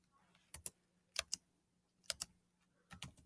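Typing on a computer keyboard, quiet close clicks in four short bursts of two or three keystrokes each, separated by brief pauses, no talking.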